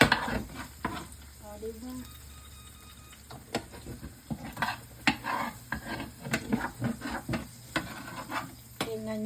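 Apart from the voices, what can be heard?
sauce cooking and being stirred in a pan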